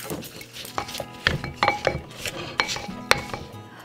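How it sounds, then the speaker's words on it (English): Brown sugar and oil are stirred by hand in a bowl, with a spoon scraping and clinking against the sides in irregular strokes, close and moderately loud with no talking. "I'm just gonna go ahead and stir it really good by hand."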